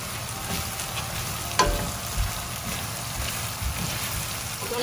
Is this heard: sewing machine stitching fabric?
no